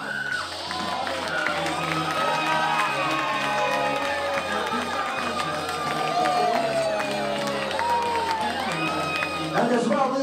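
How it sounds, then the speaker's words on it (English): Wedding guests cheer, whoop and applaud a newly introduced couple, a loud, continuous crowd roar of clapping and shouting voices that fills the whole stretch without pause. "let's have a nice round of applause for Teresa Murty and George Richard."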